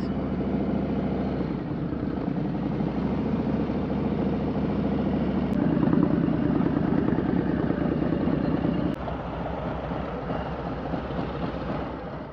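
A motorcycle engine idles nearby during a bike swap on a ride through the Everglades, giving a steady, loud, throbbing rumble with a slight rise and fall in level and no talk over it.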